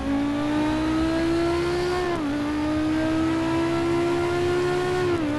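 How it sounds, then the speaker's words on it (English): Mazda 787B race car engine in Real Racing 3, a loud, steady high-pitched rotary whine holding a near-constant pitch, dipping briefly at a gear change before climbing again, with no talking over it. "Mazda 787B, the engine sound on that one as well."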